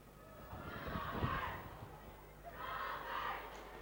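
Crowd at a Clonmore county final hurling match roaring for the Rovers in two swelling bursts of cheering, a distant, diffuse roar that rises and falls with a brief lull between.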